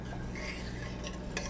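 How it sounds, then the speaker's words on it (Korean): Rice with sesame oil, soy sauce, rice wine, salt and dashi stirred in a pot, with soft scraping and a few light utensil clinks heard close in a brief, quiet burst. "잘 섞어 주시고요"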